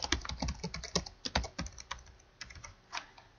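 Fast, uneven bursts of typing on a computer keyboard as a group name is entered in a Google Docs contact list, close and crisp with short pauses between clusters of keystrokes.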